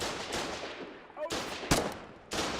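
Video game gunfire in a battle: bursts of sharp shots and rapid firing with loud cracks, broken by short gaps, mixed with faint voices.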